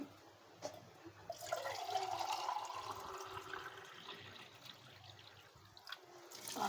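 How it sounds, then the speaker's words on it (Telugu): Water is poured into a pot for chicken dum biryani. A quiet trickle grows into a steady splashing pour that lasts several seconds, then tapers off, with faint drips at the edges. "ఇప్పుడు కొలతకు నీళ్ళు పోయి"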